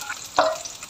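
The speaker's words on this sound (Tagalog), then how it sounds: "halu-haluin lang po natin yan hanggang sa nabisagsa ng konti" Pork belly is stirred in a sizzling pan, with a soft hiss and one quick scraping clack of a utensil midway through this very short moment.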